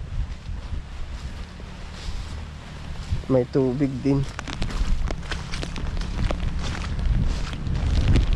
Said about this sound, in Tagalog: Ayan ang hangin naman.